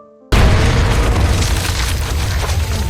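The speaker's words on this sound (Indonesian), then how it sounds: "Ledakan itu membuat kaki dari Sersan Rommel terluka" A sudden loud grenade explosion in a war film bursts in after a brief quiet moment, followed by a sustained rumbling roar that slowly fades.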